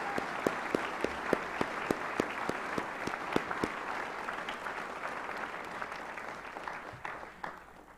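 Applause at a high school graduation ceremony, a dense round of clapping in a large hall with a few sharp louder claps early on, tapering gradually toward the end.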